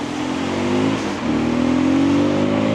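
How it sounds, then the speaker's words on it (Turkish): An Aprilia RS125 motorcycle engine revs up and down close by, a steady roar with rising pitch as the throttle opens. "Motorun sesini dinleteyim size birazcık."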